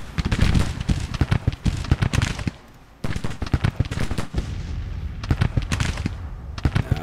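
Civil War musket and artillery gunfire in the strategy game Grand Tactician at the Battle of Grafton, West Virginia: loud, dense crackling volleys of shots with a short lull before the firing resumes.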